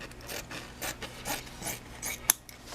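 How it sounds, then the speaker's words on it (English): Motorcycle seat material being trimmed during a seat restoration: soft, quiet rasping strokes repeat at an uneven pace, with one sharper click near the end and no talking. "I can trim some of this away, just to make this easier to make the bend"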